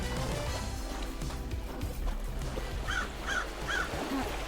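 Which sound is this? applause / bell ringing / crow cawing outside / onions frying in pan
crow cawing outside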